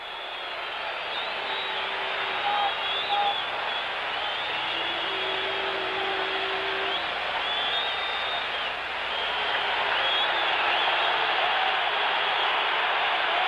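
A football stadium crowd of 92,000 roars in a continuous broad wash of noise at a 1974 Notre Dame versus USC game, with a commentator's voice faintly under the din.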